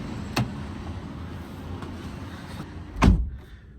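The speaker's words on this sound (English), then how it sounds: "Fairly solid door sounding, but you get hard plastics here on the door cards." The door of a Radar RD6 electric pickup shuts with a solid thud near the end, after a lighter click earlier, over a low steady background hum.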